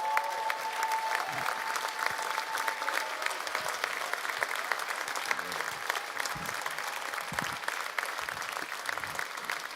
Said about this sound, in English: So give Manny a big round of applause as he comes up.